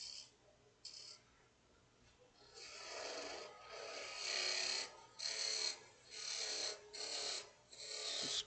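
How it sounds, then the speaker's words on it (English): A wood lathe makes scraping cuts on a turned ornament, giving repeated bursts of bright rasping tool noise in short, rhythmic strokes with brief pauses between, close and fairly loud over a low motor hum. "Scraping cuts here to match the shape on the front or the bottom of the piece"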